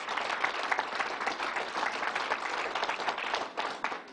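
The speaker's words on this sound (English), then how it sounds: "Let's give him a round of applause." A round of applause for Van Robinson at a COVID-19 vaccine press briefing, steady clapping from a room of people with a few sharp individual claps, fairly faint and sustained.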